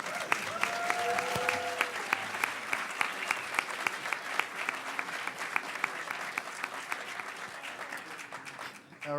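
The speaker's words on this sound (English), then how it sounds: "Applaud for yourself and your potential." Sustained audience applause at the closing ceremony of the HOPE Number Nine hacker conference in 2012, a dense crowd clapping steadily throughout with a few brief voices rising over it before it tapers at the end.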